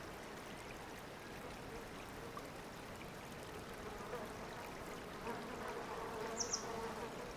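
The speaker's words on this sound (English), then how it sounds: "Flies buzz the same way the world over, from scorching deserts to snow-capped mountains." Flies buzzing in an Alpine mountain setting, a steady, faint insect drone over soft, trickling background noise, with no voices.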